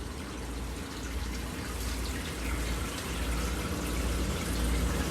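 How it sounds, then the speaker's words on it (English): Water pouring steadily out of a sump pump, a continuous, moderately faint rushing and splashing that swells slightly over a few seconds with no voices. "look at the water is pouring out of the..."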